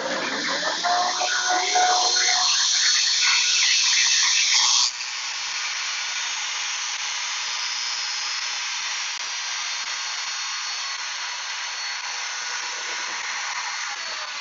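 A Shopsmith jointer cuts a rabbet in a board. The motor whines loudly and close while the cut roughens the sound, then it settles into a steadier high running hum once the pass ends.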